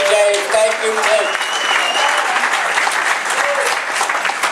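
A town hall audience applauds loudly and steadily, dense clapping close by throughout, with a voice speaking briefly at the start.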